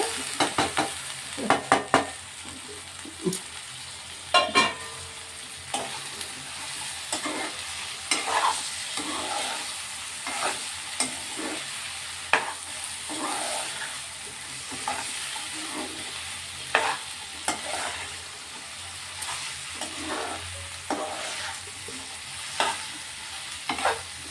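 Okra sizzles steadily as it fries in a pan for an Andhra-style dried prawn and okra curry, broken by repeated scraping stir strokes and clacks of a spoon against the pan, close and with no voices.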